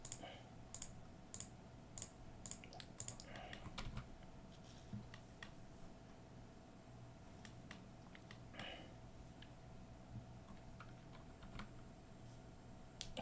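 Computer keyboard typing and mouse clicking at a desk, clusters of sharp close clicks in bursts at the start and around the middle, then sparser taps over a quiet room hum.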